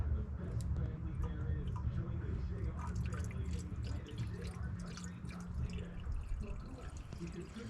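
Deionized water pours into the radiator of a Dodge Dakota, a faint trickling and dripping with small splashes that carry on steadily at close range.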